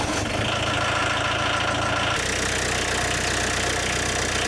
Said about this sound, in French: Démarrez et faites chauffer le moteur.